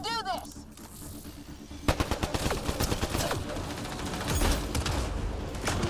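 Rapid automatic gunfire and bursts of shots from the video game Mass Effect: Andromeda, dense and continuous for several seconds with overlapping blasts, under voices talking.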